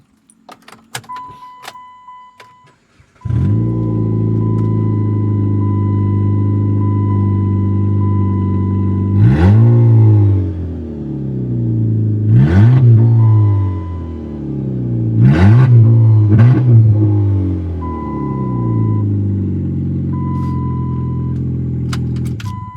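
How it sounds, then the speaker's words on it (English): A car engine with only headers fitted and no cat-back exhaust starts with a jangle, settles into a loud, rumbling idle, then revs up sharply several times, each rev falling back to idle. An intermittent chime beeps in the background. "I wonder what it sounds like. Just header."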